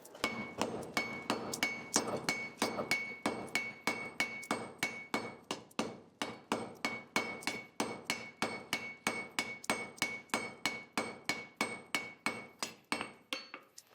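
Blacksmith in a traditional folk forge hammering metal on an anvil, a long run of sharp, ringing strikes in a steady brisk rhythm, each blow leaving a bright metallic tone, close and loud.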